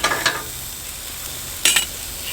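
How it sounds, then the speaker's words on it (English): Bacon grease sizzling in a skillet at a campsite while cooking Sonoran hot dogs, a steady crackling hiss with two louder bursts of spatter near the start and near the end, close up, no talking. "So I threw a half a piece of bacon in there."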